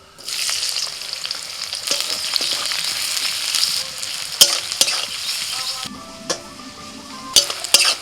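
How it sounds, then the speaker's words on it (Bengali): Chopped onions with black cumin and dried red chilies sizzle steadily in hot oil in a wok while a spatula scrapes and taps against the pan several times. "পেঁয়াজটা খুব ভালো করে ভেজে নিয়েছি"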